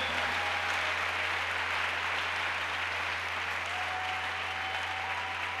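A church congregation applauding, a steady, sustained wash of clapping that fills the room evenly, with no voices rising above it.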